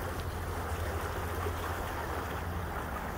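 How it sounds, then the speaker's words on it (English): High spring-to-summer flow on the Yakima River makes a steady, soft rushing wash of water, continuous and even with no voices. "The river will continue to operate with big water like this"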